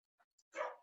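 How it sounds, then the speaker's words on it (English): A dog gives a single short bark after two faint yips, close and brief in an otherwise quiet room. "You might hear my dogs barking in the background."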